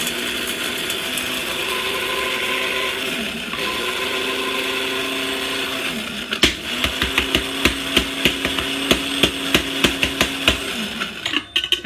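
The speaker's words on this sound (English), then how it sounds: "Grinding the 5 spices in our spice grinder." An electric spice grinder whirs steadily while grinding five spices, then shifts into a rapid run of sharp rattling clicks and knocks in the final seconds; close and loud, no talk.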